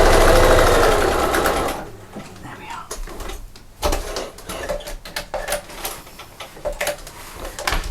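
A sewing machine stitching over cotton piping on a machine cover runs loud and steady, then stops, followed by softer clicks and handling sounds while someone talks.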